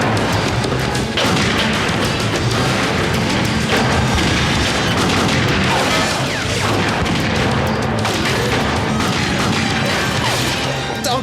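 Chaotic action-film combat from Lethal Weapon (1987): dense gunfire, crashes and booming explosions pile up continuously and loudly with almost no pause.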